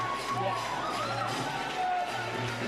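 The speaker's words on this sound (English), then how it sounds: "Listen to that crowd." A crowd at a padel league final in Sri Lanka roars and cheers in a steady, dense wash of sound that lasts throughout, with voices blended into the noise.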